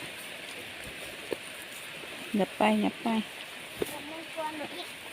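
Steady rain hisses throughout while cattle are being herded, with a few brief spoken Thai words rising over the downpour.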